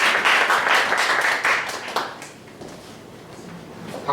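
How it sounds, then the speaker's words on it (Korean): Congregation applause in a church hall greeting a young man coming up to share a message, a dense steady clapping for about two seconds that thins and fades into quieter room murmur. "박수로 환영할까요?"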